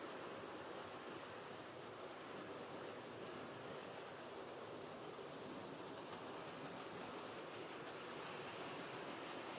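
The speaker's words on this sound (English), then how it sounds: "The DMU that's going around is a Bachmann 108." A Bachmann 108 DMU model train runs around a layout with a steady, continuous rolling rumble and faint clatter, close and even throughout, with no talk.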